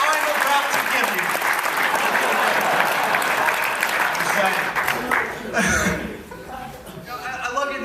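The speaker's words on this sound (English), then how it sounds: "How about one more big round of applause for all the talent I'm about to give you." An audience at a stand-up comedy show claps in a loud, sustained round of applause with a few chuckles, tapering off toward the end.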